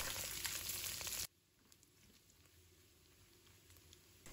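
Garlic slices hit hot oil in a wok with a loud sizzle lasting about a second, then cut off to a faint, quiet hiss for the rest.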